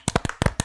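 A handful of loud, close hand claps in a quick uneven burst, five or six sharp slaps within under a second, applauding fans in a Brazilian Portuguese webtoon podcast studio.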